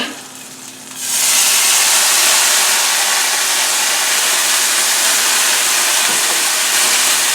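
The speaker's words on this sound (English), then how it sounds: "You're going to hear a big sizzle when this happens" After a quiet second, a loud, steady sizzling hiss erupts and continues unbroken as water hits a very hot pan of frying pork dumplings and steams.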